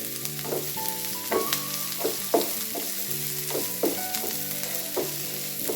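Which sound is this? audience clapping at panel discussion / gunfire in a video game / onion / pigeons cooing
onion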